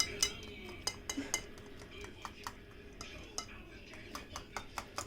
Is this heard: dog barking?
no